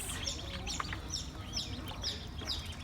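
Baby chicks and ducklings in a farm store, a regular series of high, bright peeps about every half second, close and fairly faint over a low background hum.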